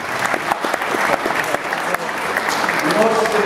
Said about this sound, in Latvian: Ērika kungam aplausas.